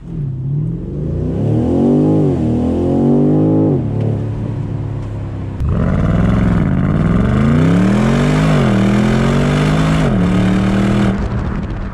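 A BMW M850i's 4.4-litre twin-turbo V8 revs hard and climbs through gears, dropping briefly between shifts, loud and close with a deep growling tone.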